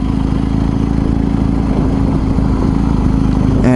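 A BMW R1250 GS Adventure HP boxer twin loping at low revs in third gear, a steady deep throbbing engine pulse with road and wind noise, close and constant with no voices.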